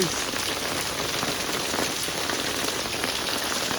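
Heavy rain pours down steadily during a storm in a village, a dense continuous hiss of drops hitting surfaces with no pauses.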